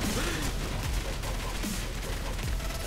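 Explosions and gunfire from the video game Far Cry 2 roar in a dense, continuous barrage of crackling shots and booming blasts, loud and without letup.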